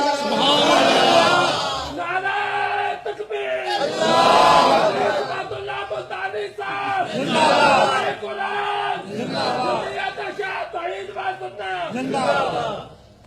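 A large crowd chants slogans in loud, rhythmic bursts, repeated phrases rising and falling in unison with short gaps between, near and powerful.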